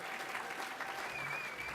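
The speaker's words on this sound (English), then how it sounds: "triumphant applause" Steady applause from an audience at the Swimming New Zealand Awards 2010, even and continuous throughout, with a faint whistle-like tone briefly audible above it.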